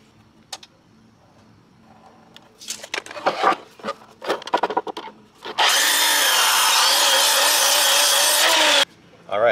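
A saw cuts through the weathered wood of an old roadside table being turned into shelves, first in several short scraping strokes and then in a loud, steady run of about three seconds before stopping.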